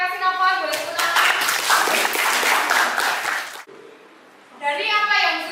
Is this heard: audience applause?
yes